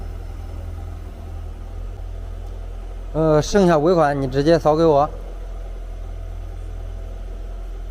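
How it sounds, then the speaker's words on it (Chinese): Geely Geometry car idling nearby, a steady low engine drone running throughout, with someone speaking briefly over it midway. "让它怠速着最低半个小时"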